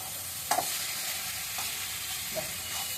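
Greens and onion stirred and fried in a pan, a steady soft sizzle broken by a few sharp scraping clinks of the spoon against the metal, no voices.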